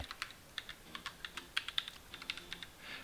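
Typing on a computer keyboard, a steady run of clicky keystrokes with uneven spacing and a few harder taps, close and fairly quiet with no talking.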